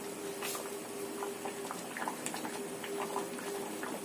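Thick mung bean porridge bubbles in a pot, soft irregular pops and blips over a steady low simmering hiss.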